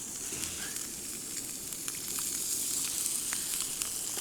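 Food sizzles and fries in oil in a pan on a snow-melting stove that runs too hot, a steady close crackling hiss with no talking.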